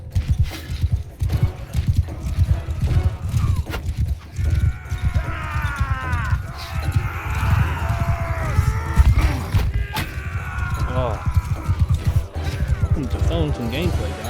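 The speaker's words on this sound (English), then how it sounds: "I hate the bloody horse running." Galloping hooves of a horse in the Mount & Blade medieval combat game, a rapid, repeated low thudding rhythm running throughout, mixed with clashing combat noises and someone talking over it.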